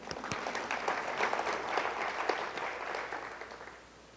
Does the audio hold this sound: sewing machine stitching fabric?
no